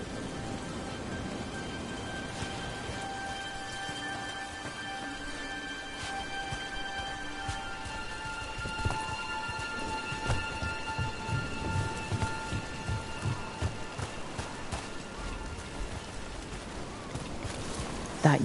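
Steady rain patters through a stormy scene in the video game Dragon Age: The Veilguard, with low rolling thunder building in the middle and continuing under the constant hiss of rainfall.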